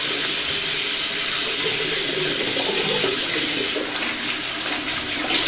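Hot water runs steadily from a bathroom sink tap while someone washes off makeup, a loud close continuous splashing hiss with a brief knock near the end.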